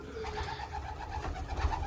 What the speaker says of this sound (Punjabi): ਚਲੋ ਵੀ ਕਬੂਤਰਾਂ ਨੂੰ ਦਾਣੇ ਰੱਖ ਦਈਏ